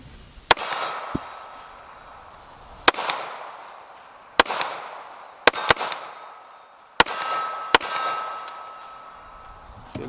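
Dan Wesson TCP 1911 pistol in .45 ACP fired outdoors: sharp, loud single shots spaced a second or two apart, a few in quick pairs, each with a ringing metallic clang and a brief fading tail.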